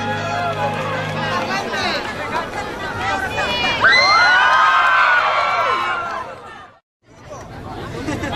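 A live concert audience cheering and applauding for a singer, with loud, excited shouts and whoops rising over clapping and crowd chatter before dropping off abruptly, then the babble resuming.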